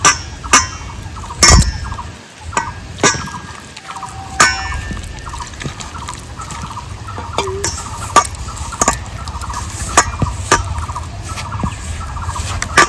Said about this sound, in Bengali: তো আমি এই ময়দাটা কিন্তু খুব সুন্দর করে ফেটিয়ে নেব।